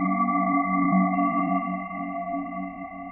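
Dark, droning synth atmosphere made from a saw wave run through MTransformer, a few sustained tonal layers humming steadily at moderate volume for about three seconds, with no talking.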